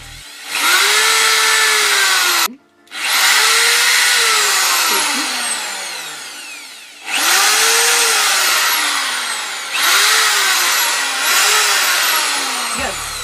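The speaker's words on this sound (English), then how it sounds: "now let me turn on the drill and let's screw things up" A power drill whirs loudly in several long bursts, its pitch rising and falling as it speeds up and slows, with brief pauses between runs.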